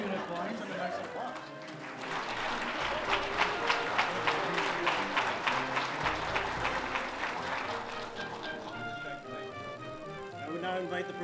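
At a naval centennial gala for HMCS Chippawa, an audience breaks into warm applause, with rhythmic clapping swelling to a full, steady round before trailing off into murmured chatter.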